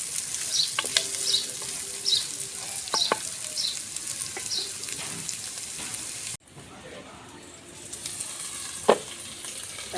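Onion pieces fry in a pan with steady close sizzling and crackling, with occasional stirring clinks and scrapes throughout.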